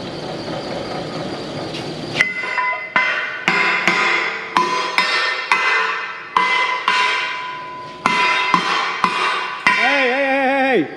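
Repeated sharp metallic clanks of hammering on a metal fuel trailer ring out at an irregular pace, each strike leaving a bright, lingering ring; nearby and loud, with no talking.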